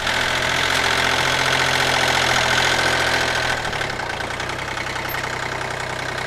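A motorcycle engine idles close by, picked up by a directional helmet microphone on an open face helmet. It makes a steady, loud, rumbling drone with a faint knock that drops slightly in level partway through.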